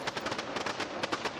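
Irregular popping backfires from a simulated aircraft piston engine in Flight Simulator 2020 crackle in quick uneven bursts, loud and close with no voices.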